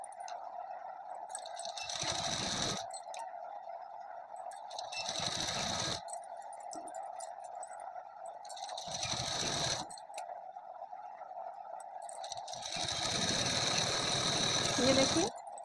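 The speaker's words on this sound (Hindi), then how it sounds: "ये देखिए अब हमें इसी तरह से उस साइड भी सिलाई लगा लेनी है।" An electric sewing machine runs in four loud bursts as it stitches a suit sleeve seam, a steady buzzing whir that starts and stops with short quiet gaps between runs.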